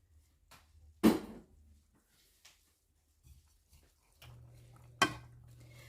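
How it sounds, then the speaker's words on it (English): Onions tossed into a pan of browning ground beef give a sharp clatter and sizzle, with a second similar clatter later and a low cooking hiss and faint utensil taps in between. "this ground beef is getting along pretty nicely, so I'm going to go ahead and throw in my onions"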